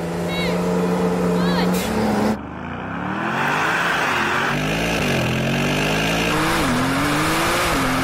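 Brabus car of about 900 hp launching hard from standstill after brake boosting: steady high revs held, a sudden surge and drop as it releases, then a loud engine pulling up through gear changes, with people talking over it.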